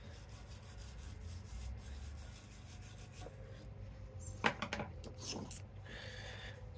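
A hand scraper scrapes a Brown & Sharpe bench center in a workshop, giving quiet repeated rasping strokes with a few sharper scrapes, close and faint.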